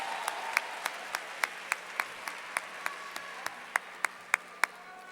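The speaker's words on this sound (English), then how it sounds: "Please let us applaud our honors graduates." Applause for honors graduates rings out at a university commencement ceremony, heard as a distant, soft crowd wash with a single nearby pair of hands clapping sharply in a steady beat of about three per second.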